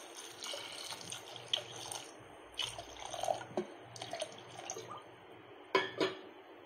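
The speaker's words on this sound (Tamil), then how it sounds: "இதுக்கு தேவையான அளவு தண்ணி ஆட் பண்ணுறேன்" Water is added to a pot of moong dal (pasi paruppu) sambar for dosa, heard as faint, intermittent splashing and dribbling with a few sharper liquid bursts near the end.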